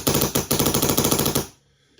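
A Nexxus HPA paintball marker fires in rapid semi-automatic bursts, a fast string of sharp, loud pops from close by that stops abruptly and leaves near silence.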